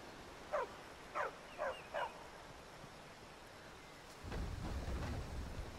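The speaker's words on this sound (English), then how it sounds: "I hear a dog." A dog in Skyrim barks four times in a steady run, moderately near. Afterwards a low, rumbling ambient wash takes over, like distant thunder or rain.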